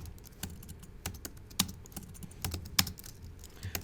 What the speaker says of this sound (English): I'm going to type in Sharks Indoor